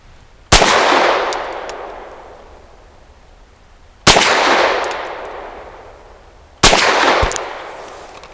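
Three loud, sharp gunshots from a Walther PD380 pistol firing Civil Defense 50 grain rounds, spaced a few seconds apart, each with a long ringing outdoor decay and faint metallic pings after.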